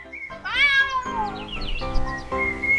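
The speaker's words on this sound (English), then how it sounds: "Cat." A cat meows a few times, a long wavering mew followed by shorter plaintive calls, near and clear with no other sounds.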